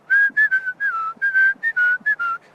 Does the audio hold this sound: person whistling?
yes